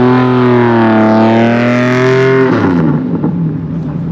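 A Lamborghini with a 5.7 V12 engine revs hard at Brands Hatch during a drift display, a loud rising howl that holds high and then drops off into rougher, gravelly engine noise as the revs fall.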